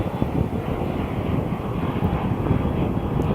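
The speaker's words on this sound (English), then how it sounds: "that plane, that jet is really flying high too" A jet plane flying high overhead gives a steady, distant broadband roar that holds evenly outdoors with no voices.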